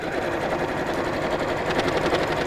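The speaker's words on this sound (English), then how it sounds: "I'm just going to top stitch across each side of the seam" A sewing machine set to a longer stitch length top stitches across each side of a seam on a cosmetic bag with handles, humming loudly and evenly without pause.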